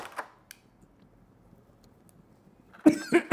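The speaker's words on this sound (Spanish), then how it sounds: "Ay, me dio tos." Near silence, then a burst of three close, harsh coughs near the end, with a faint click early on.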